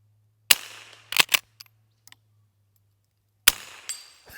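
Pump-action rimfire rifle fired at a 4-inch steel plate 100 yards away on a humid Tennessee range: a sharp near gunshot, a quick pair of cracks with faint action clicks, then another loud shot, with no talking.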